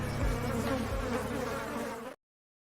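A bee buzzing sound effect opens a sports segment jingle, a dense, steady insect drone lasting about two seconds before cutting off abruptly into silence.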